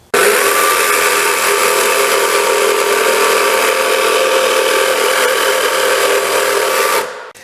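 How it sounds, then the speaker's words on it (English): A power tool drives pocket screws into marine plywood braces for a bird feeder, giving one loud, steady, high whine for about seven seconds before it winds down and stops. "These braces will go in here like this, and I'll be holding them in with pocket screws."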